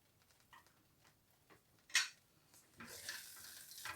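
Chopped cashews and pistachios are stirred into a carrot and khoya barfi mixture in a pan, producing soft, faint scraping and clinking taps, with one sharper clink and a brief sizzle-like hiss toward the end.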